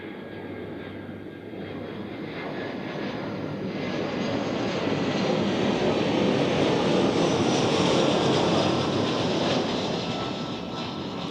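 An airplane passes near Zurich Airport, a broad engine roar that swells gradually and holds loud and steady, heard from the ground with no talking.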